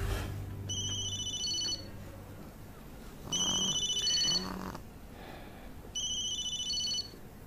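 A telephone rings unanswered in three separate electronic bursts with pauses between them, fairly close and clear over a quiet room.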